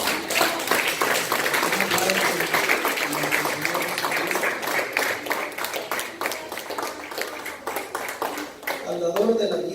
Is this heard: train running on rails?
no